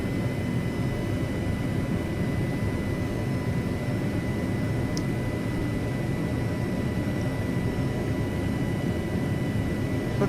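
Aircraft engine in the IRIS flight simulator, a steady broadband roar with a low rumble and a faint whine, holding constant throughout as power is added, with no talk.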